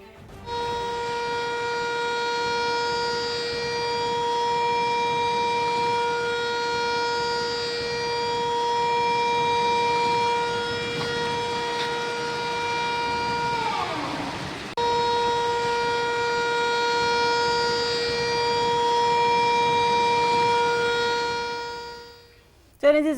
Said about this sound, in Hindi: इसमें बाकायदा सायरन भी बजाए गए हैं